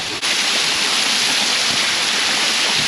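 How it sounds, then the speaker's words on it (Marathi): A waterfall on the Torna trek pours with a loud, constant roar of rushing water that fills the whole scene, with no voices over it. "आम्हाला एक धबधबा पण मिळाला."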